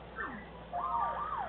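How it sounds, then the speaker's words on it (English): An electronic siren in Paper Mario: The Thousand-Year Door wails with rising and falling sweeps, fairly soft and steady, with no talk over it. "Oh god, that siren."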